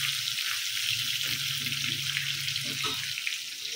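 Fish frying in oil in a home kitchen, a steady, fairly loud broadband sizzle running throughout with occasional soft clinks and faint low background sounds.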